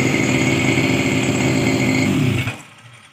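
A lawn mower engine runs steadily at close range with a loud buzzing drone, then is switched off and quickly fades to silence.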